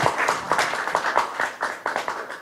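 An audience applauds at the close of a political forum, a close, lively burst of many hands clapping in quick irregular bursts that fills the whole moment.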